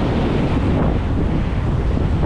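Heavy storm wind roars steadily with crashing waves underneath during a typhoon, loud and continuous with no pause.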